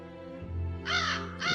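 A crow caws loudly and close by, two harsh rasping calls separated by a short pause, over a low steady hum.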